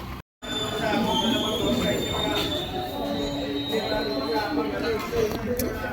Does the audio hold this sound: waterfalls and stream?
no